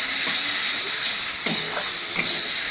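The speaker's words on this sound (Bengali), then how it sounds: "এবার আমি এর মধ্যে দিয়ে দিচ্ছি জল।" Water poured into fried spice masala for doi katla makes a steady loud sizzle and hiss, with two sharp crackling bursts standing out partway through.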